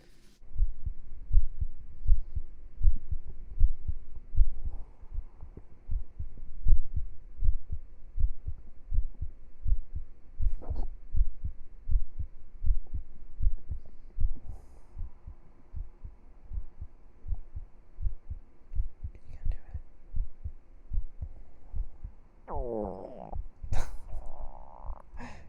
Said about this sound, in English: my stomach is loud